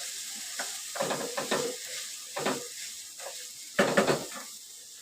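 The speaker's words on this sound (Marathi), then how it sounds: "डाळ परतून घ्यायची मी चांगले परतून घ्यायचे" Lentils (dal) sautéed in a pan with oil, soft sizzling hiss broken by several brief scraping stirs, close but fairly quiet, no voices.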